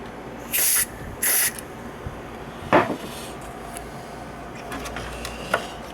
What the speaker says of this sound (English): we'll just put this down here in this little crack here and spray